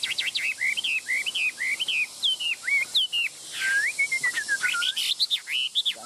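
A caged songbird sings close by in a lively, continuous run of bright, clear whistled phrases, repeated quick notes and sweeping slurs, with brief pauses between bursts and no talking.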